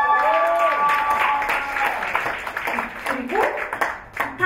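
Audience applause at a live college band performance in a concert hall, spreading through the crowd as each band member is introduced, mixed with cheering voices and a loud, busy room tone.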